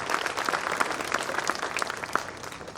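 An audience at a diploma ceremony applauds the minister, a steady crackle of many hands clapping, fairly distant and even throughout.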